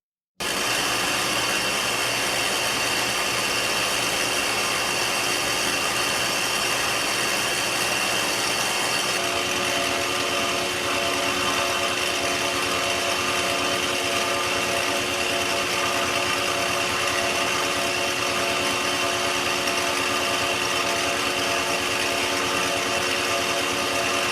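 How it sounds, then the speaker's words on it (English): A metal lathe in a home workshop runs steadily, turning stock to make an M4 threaded part from scratch, with a continuous machine hum and whine that shifts slightly in pitch partway through, with no voices. "So let's go over to the lathe and get started."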